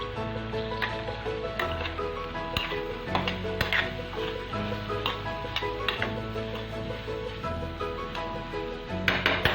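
Vegetables seasoned with salt, pepper and red chili being stirred in a pan on the gas, giving repeated light clinks and scrapes under steady background music.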